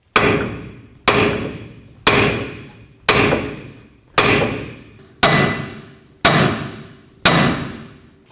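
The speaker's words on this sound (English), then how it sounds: "We're going to give this a couple loving bonks to break it free." Eight heavy metallic hammer blows strike a ball joint on a Dodge RAM 1500 to free it, landing at a steady one-per-second rhythm, each ringing briefly before fading, close and loud with no talking.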